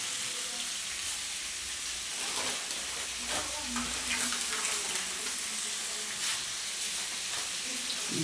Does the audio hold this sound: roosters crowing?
no